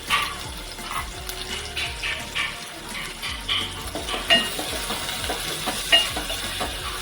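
Finely chopped onion frying in a pan for a Maharashtrian spinach besan dish, giving a soft sizzle under uneven stirring and scraping knocks and watery splashes, close and fairly quiet, with no talk.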